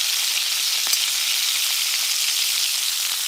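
Shrimp browning in a hot pan, a constant bright sizzle with a few faint crackles, close and alone.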